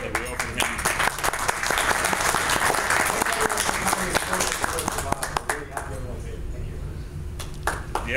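Applause from a lunch audience at a Mazda 6 presentation fills the room, dense steady clapping that thins and fades toward the end, with voices audible underneath.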